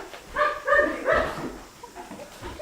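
A dog barking indoors, a few yappy, pitched barks and whimpering yips close by in quick succession, then fainter, softer sounds.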